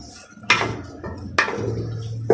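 A metal spoon knocks and scrapes against a pot while stirring chicken pulao with peas, three sharp clanks spaced about a second apart over low sizzling.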